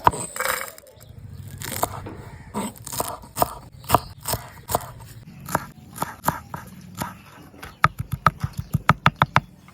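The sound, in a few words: cutting green chillies for fuchka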